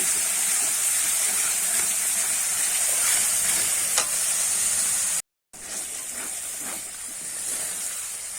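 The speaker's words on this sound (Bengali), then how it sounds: "দিয়ে দেবো হলুদ গুঁড়ো ভালো করে কিন্তু আমি কষিয়ে নেব" Spice paste with turmeric and salt frying for a Bengali crab curry, a loud, continuous close sizzle with occasional stirring scrapes and a brief dropout near the middle.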